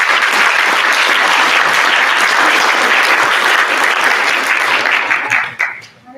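Strong, full applause from the audience at a regional spelling bee, a loud sustained wash of clapping that holds steady, then fades away quickly at the end.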